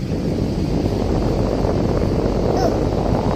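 Strong wind gusts through trees, a dense continuous roar with buffeting across the microphone that holds steady and loud from start to finish.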